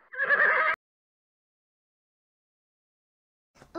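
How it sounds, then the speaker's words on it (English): A horse whinnies in a children's farm song, a single loud neigh at the start and a brief fragment returning at the end, with silence in between. "Horse."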